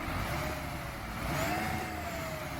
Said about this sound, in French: Donc là, vous avez vu le moteur du bus.